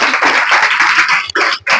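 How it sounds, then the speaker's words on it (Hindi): An audience claps for a student at an education interaction session with children, a dense burst of applause that fills the short moment, briefly dipping near the end before resuming. "इनके लिए ताली बजाइए"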